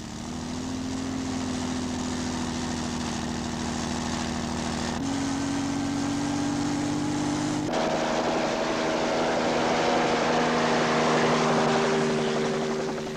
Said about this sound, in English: Guy Lloyd of Lloyd Aviation is a specialist in crop spraying and uses on this occasion a helicopter